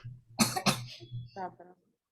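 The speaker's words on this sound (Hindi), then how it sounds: "अनम्यूट करके खांसी करके वापस म्यूट की" Two sharp coughs close together, followed by a brief murmur of voice and a softer throaty sound, then silence.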